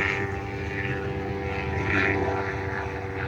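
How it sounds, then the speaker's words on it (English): A police helicopter flying overhead, a steady, loud rotor and engine drone that swells slightly midway and holds throughout. "Police helicopters, they are fairly common around here."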